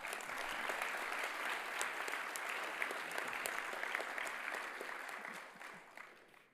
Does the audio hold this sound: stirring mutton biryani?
no